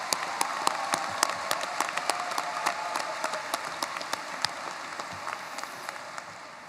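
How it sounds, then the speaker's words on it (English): Audience applause fills a high school graduation ceremony, a continuous wash of many hands with individual sharp claps popping out near the listener throughout. "Please give these students a round of applause."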